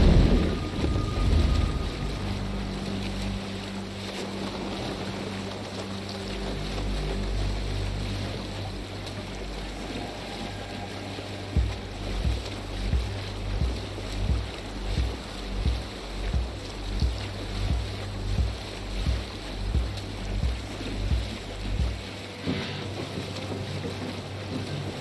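A sailing boat moves across open water in Assassin's Creed Valhalla, with steady wind and rushing waves, then rhythmic surging swells that pulse about once a second, continuous and fairly loud, with no talk.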